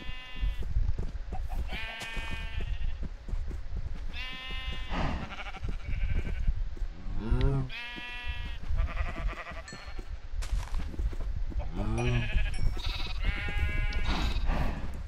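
Sheep in the video game Minecraft bleat repeatedly, loud and close, with overlapping calls that come in irregular bursts over steady background noise.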